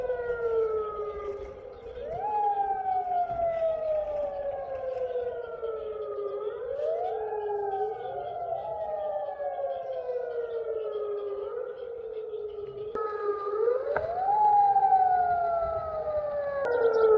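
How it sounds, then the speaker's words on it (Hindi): Rising and falling sirens wail across Jordan during an Iranian drone attack, several overlapping tones sweeping up and down in long cycles, steady and fairly loud with no voices over them. "जॉर्डन के अंदर सायरन बज रहे हैं"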